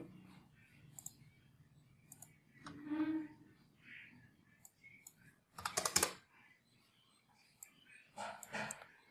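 Computer keys are tapped in short scattered bursts of clicks, close and fairly quiet, with pauses between and faint murmuring in the background.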